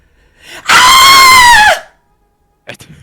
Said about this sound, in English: you hear a blood-curdling scream.